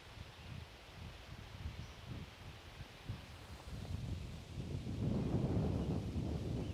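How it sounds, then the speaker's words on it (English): Outdoor wind on an archery range gusts and rustles, rumbling against the microphone and growing stronger and louder toward the end, with no talking. "Wind's gonna blow me over."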